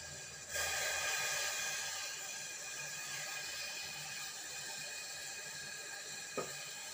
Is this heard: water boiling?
yes